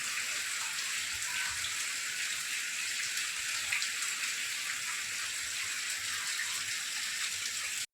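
A pesticide sprayer on a farm sends out a strong, unbroken hiss of liquid spray that runs steadily for the whole stretch and then cuts off abruptly.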